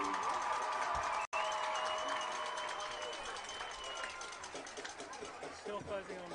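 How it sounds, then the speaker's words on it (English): Crowd applause at a Midwest City vs Piedmont high school football game, honoring the Piedmont varsity dance team, forms a steady, distant wash of clapping and cheering mixed with tones from the stands and a brief dropout. "One more round of applause for your Piedmont varsity dance team."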